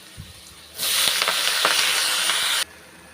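Onions and drumstick leaves sauté in a hot pan for a Tamil murungai keerai poriyal, a loud steady hiss and sizzle that starts abruptly, holds for about two seconds, then cuts off, with a faint knock before it.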